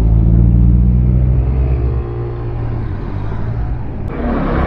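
Honda PCX160 scooter engine revving hard on a test ride, a loud, steady low drone that eases slightly midway and then climbs again, with no talking over it.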